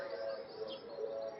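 Pigeons kept by a pigeon fancier coo in low, throaty, continuous murmurs, fairly soft and close, with faint chirps and background voices mixed in.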